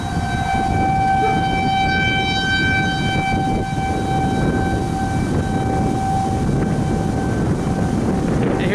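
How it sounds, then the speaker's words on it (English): Tornado sirens wailing steadily during a storm in Fort Smith and Barling, Arkansas, a sustained tone across the whole stretch under strong wind noise on the microphone. "One thing I'm not used to though is tornado sirens going off"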